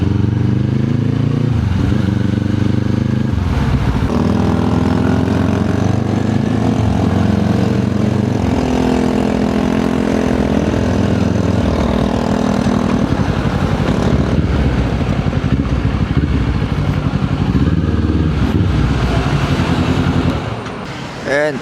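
A Kawasaki Z400 parallel twin fitted with a Yoshimura R77 exhaust revs loudly and close, its engine note rising and falling repeatedly with people talking over it.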